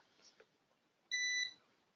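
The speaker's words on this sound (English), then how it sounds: "I'm not sure if you can hear the beeps there, but that's actually the UPS running" A UPS battery backup sounds a single clear electronic beep of about a third of a second during a power outage, moderately loud against a quiet room with faint background noise.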